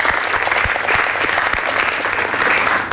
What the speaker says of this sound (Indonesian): Tepuk tangan untuk Ibu Kartini.